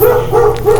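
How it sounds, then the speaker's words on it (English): A neighbor's dog barking nearby, a few quick rhythmic yaps in succession, loud and close, with no talking over it. "The neighbor's dog keeps barking."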